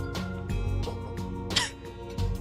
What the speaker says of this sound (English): I'm actually having a bit of a cough